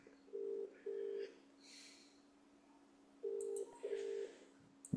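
A telephone call rings out unanswered: two paired ring bursts, a pause, then two more, faint and thin as if heard through a phone earpiece, with a steady low hum underneath and no talking.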